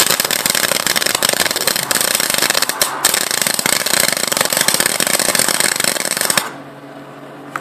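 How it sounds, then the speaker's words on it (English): Bar stock being arc welded together for a microgreen lighting and watering rig gives a loud, dense crackling buzz, close and almost continuous with one brief break, then stops suddenly into quiet. "we're going to weld that all together"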